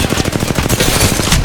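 Rapid automatic gunfire in the video game Apex Legends, a dense burst of closely spaced shots sounding loud and continuous for about a second and a half.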